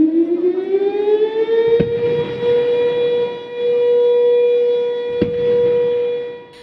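A long ceremonial siren wails at an Indonesian Independence Day proclamation ceremony, rising in pitch and then holding a steady tone, with two sharp cannon booms cutting through partway.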